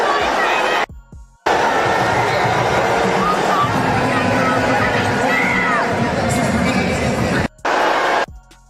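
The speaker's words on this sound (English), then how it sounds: "So she got booed right there." A large Toronto Tempo home crowd at a WNBA game sustains a loud, roaring wash of booing and babble aimed at Sophie Cunningham, running nearly unbroken for several seconds with two brief dropouts.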